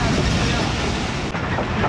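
A moving passenger train heard from inside the cabin: a loud, steady rumble with rolling rail clatter filling the background throughout.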